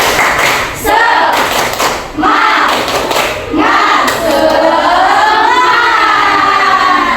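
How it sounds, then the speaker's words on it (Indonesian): A group claps a rhythmic spirit-clap pattern during an ice-breaking session at a teacher training class, with loud chanting voices riding over the sharp, repeated claps. "ya tepuk semangat"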